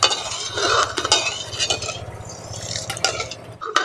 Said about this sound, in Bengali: এইভাবে করে নাড়াচাড়া করে চিনিটাকে শুধু গলিয়ে নেব